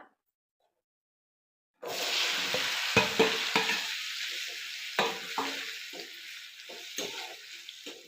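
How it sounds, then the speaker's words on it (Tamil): Onions sizzle loudly in hot oil left over from frying eggs, the steady frying hiss starting abruptly after a short silence, with a spoon clicking and stirring against the pan several times. "அந்த எண்ணெயிலேயே போட்டுக்கலாம் முட்டை வறுத்த எண்ணெயிலேயே வெங்காயத்தை போட்டு இது நல்லா வதங்கி வரட்டான்"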